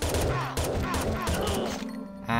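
Gunfire from the mobile shooter game XSHOT: rapid bursts of loud, sharp shots with crunchy impacts, fired in quick clusters and ending in a brief electronic tail.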